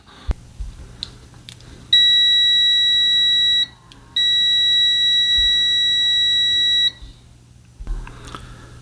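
A TESMEN TM-510 multimeter sounds its continuity beeper: two long, loud, steady high-pitched tones separated by a short gap, with quiet handling clicks before and after.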